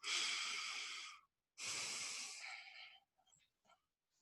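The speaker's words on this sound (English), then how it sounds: "So let's take a deep breath." A slow, deep breath drawn in and let out through the mouth, loud and close, two long airy hisses with a pause between, followed by a few faint soft sounds.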